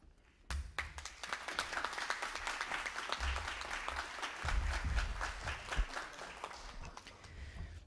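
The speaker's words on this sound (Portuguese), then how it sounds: "Muito obrigada pelas palmas, pelo carinho." Audience applause at a formal ceremony honouring women, a sudden full burst of many hands clapping that holds steady for several seconds, close and loud, with crowd noise underneath.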